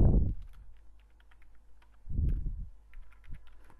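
Command typed on a computer keyboard in a terminal during Kubernetes cluster setup: a few sparse, light key clicks with soft low thumps, close and quiet, no voices.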